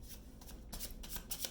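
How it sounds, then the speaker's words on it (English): A deck of tarot cards being shuffled by hand, soft papery riffles and slides repeating in quick bursts, close and quiet with no talking. "So I'm going to begin by shuffling"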